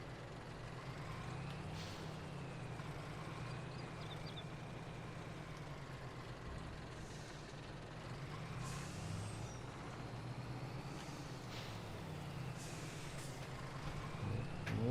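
A truck in Farming Simulator 22 idles with a low, steady engine drone, joined by occasional hissing air-brake releases and faint whining tones. No one speaks.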